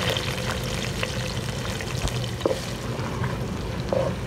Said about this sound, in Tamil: வெங்காயம் போட்டு கொஞ்சம் வதக்கிவோம்.